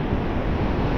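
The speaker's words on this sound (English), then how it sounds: "That wind is still annoying" Steady wind blowing on a coastline by deep water at half tide, a dense, continuous roar buffeting close against the microphone with no breaks.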